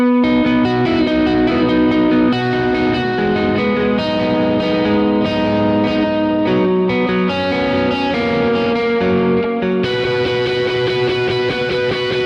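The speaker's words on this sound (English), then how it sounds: "I use an upper mid push pedal that would sound like this." Electric guitar played through an upper-mid boost pedal on a pedalboard, sustained chords and notes ringing loud and continuous with a bright push, no talking.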